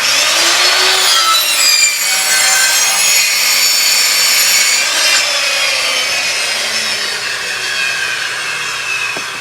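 A circular saw cuts through a wooden stud, a loud close rasping buzz with shifting whine as the blade bites, continuous for several seconds and tailing off near the end, with no talk.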